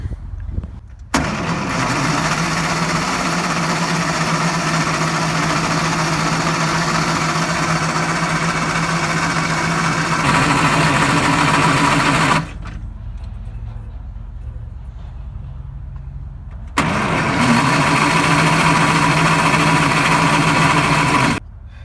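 Prewar engine in a rescued Greyhound bus cranking on extra battery power: a loud, steady mechanical churn running about eleven seconds, a brief quieter pause, then another sustained burst of cranking.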